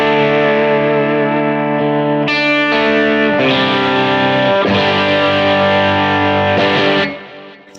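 A PRS SE Custom 24 semi-hollow body guitar through an AC30 amp model on a Quad Cortex plays sustained, distorted chords with chorus and echo, changing a few times before cutting off, loud and alone.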